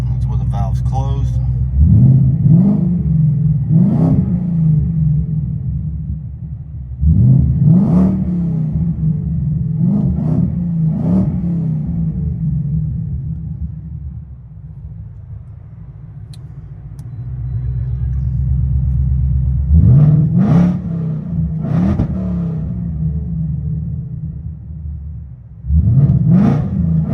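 Supercharged 675hp Roush GT V8 with valved mufflers closed, heard from inside the cabin: repeated loud revs rising and falling in several bursts over a steady low rumble, with quieter idle gaps between.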